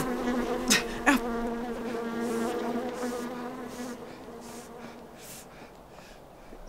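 Insects buzz steadily and close, a droning hum with a couple of sharp clicks or taps near the start.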